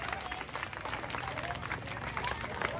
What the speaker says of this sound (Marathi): एकदा शिवाजी भाऊंसाठी हात वरती करून सगळ्यांनी जोरात टाळ्या वाजवायच्या.